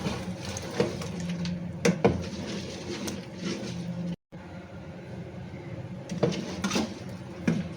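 Soft clinks of a utensil against a pot as pakoras are mixed into kadhi curry, with a low stirring rustle, occasional sharper taps, fairly quiet with no talking.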